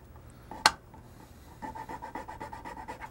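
Hand file rasping the tab holes of a metal circuit breaker box, a sharp click near the start, then a steady run of short close scraping strokes.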